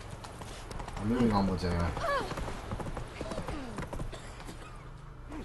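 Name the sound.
horse hooves galloping, Roach in The Witcher 3 video game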